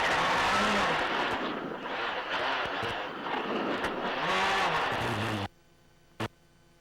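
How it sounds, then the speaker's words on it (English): Sebastien Loeb's Citroën rally car at the 2002 Swedish Rally pulling away on snow, a loud revving engine with shifting pitch and tire noise for several seconds, then cutting out abruptly to near silence with one brief click. "Now watch as Loeb starts to drive away"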